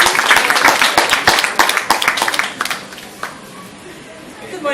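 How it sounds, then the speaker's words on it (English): Audience applause at a conference as a presenter comes on stage, a dense burst of many hands clapping that fades out after a few seconds, with crowd murmur underneath. "A round of applause for her as she comes on stage, please."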